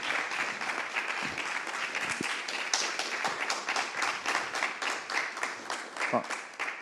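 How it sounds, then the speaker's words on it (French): A studio audience applauds a guest on a French discussion show, steadily, a dense wash of many hands clapping that holds at an even level throughout, with a few voices mixed in. "On applaudit notre invité."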